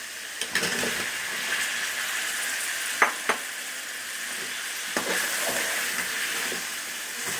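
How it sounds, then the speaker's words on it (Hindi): Potatoes fry in a spiced masala for aloo palak, a continuous soft hissing sizzle with a few sharp spoon taps against the pan, close but fairly quiet and with no voices. "आलू डाल के हम 1 से 2 मिनट भून लेंगे"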